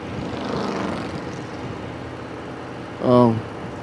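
A steady engine drone from a 2024 Road Glide motorcycle's stock exhaust rumbles throughout at moderate volume, with a brief louder rise near the end.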